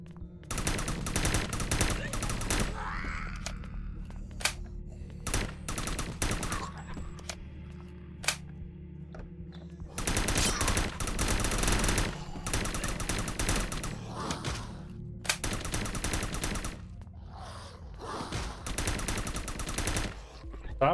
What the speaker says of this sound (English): Stop shooting the chest.